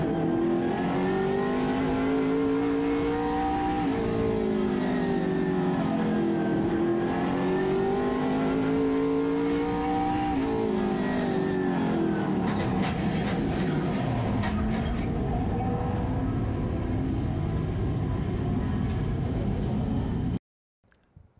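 Late Model race car heard from the in-car camera on a short track with 12-second laps: a loud, continuous engine drone that rises and falls with revving, then cuts off abruptly to near silence.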